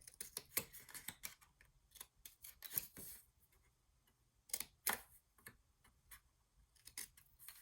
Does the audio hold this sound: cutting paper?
yes